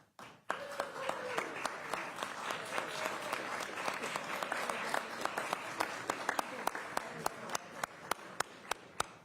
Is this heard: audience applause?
yes